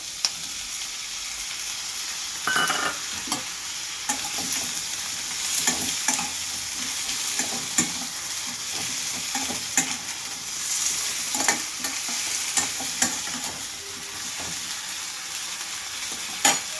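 Vegetables and leafy greens frying in oil in a pan, a continuous close sizzle with occasional scraping stirs, heard alone without talk.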